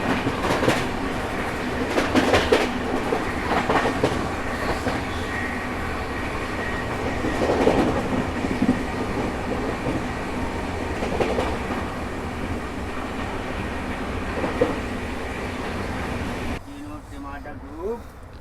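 Toofan Goa Superfast express running from Delhi to Belagavi, heard from inside as a steady loud rumble of rolling wheels with rhythmic clacks over rail joints, voices talking over it, and the noise dropping away near the end.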